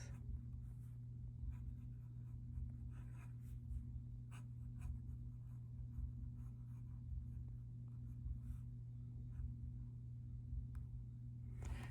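An Opus 88 Mini fountain pen with a stub nib writing smoothly on paper, a soft, steady scratching with small irregular strokes over about twelve seconds, close and faint above a constant low hum, with no voices.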